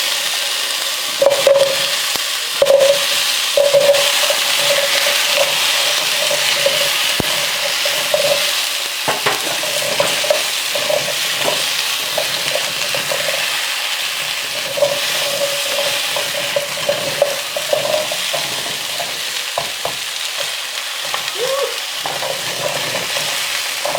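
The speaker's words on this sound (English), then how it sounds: "Now let's add this potatoes." Potatoes added to a hot pan with brisket sizzle and fry steadily while being stirred, with a continuous crackle and occasional scraping clicks throughout.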